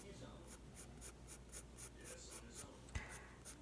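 Pencil tip shading an apple drawing on paper, a soft, steady scratchy rasp of graphite strokes moving back and forth, faint and close, with one small tap near the end.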